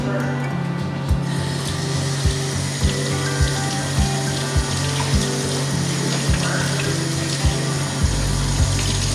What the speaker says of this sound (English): And I'm just gonna rinse this off.